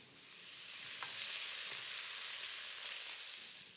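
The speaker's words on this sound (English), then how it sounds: "stir fry" Beef and vegetables stir-frying in a hot pan with oil and black pepper, a steady bright hiss of sizzling fat with faint scraping and clinks as the food is tossed, close and even throughout, no voices.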